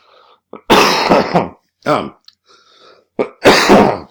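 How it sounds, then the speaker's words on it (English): A person coughs several times in a row, close and loud, with short bursts separated by brief pauses and a throat-clearing sound among them, interrupting a spoken lecture. "Hold on one second, I have to cough"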